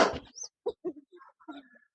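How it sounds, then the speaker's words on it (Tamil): Hens and roosters in a breeding pen give a few scattered soft clucks and short calls, fairly quiet, with a brief knock or rustle at the start and gaps of silence between. "இந்த அட்வான்ஸ் லைன்ல இருக்கக்கூடிய சேவல், அதே பட்டா கொண்ட சேவல் பொட்டை போட்டிருக்கேன்"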